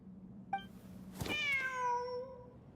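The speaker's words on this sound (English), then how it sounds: "The cat!" A cat in the video game Genshin Impact lets out a clear, drawn-out meow after a short chirp, close and distinct over a quiet low background hum, with no talking.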